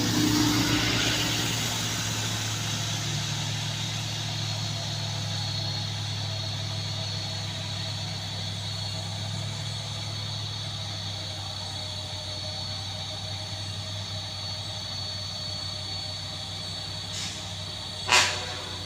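Fuso heavy truck in trouble on an uphill climb: a steady, droning diesel engine runs near and continuous throughout, with a low hum and hiss and a brief sharp knock near the end, with no talking.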